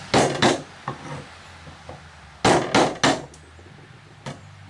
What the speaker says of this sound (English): Try to get most of this done with the chisel.